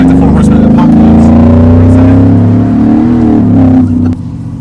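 Supercharged 2018 Ford F-150 regular cab pulls away hard from a stop, a loud, deep engine roar rising in pitch and sustained for several seconds, close by, before dropping off abruptly at the end.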